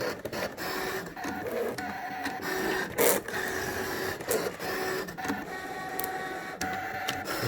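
A printer whirs and clatters steadily while printing on card, with mechanical rattles, clicks and a brief sharper burst partway through, close by and continuous.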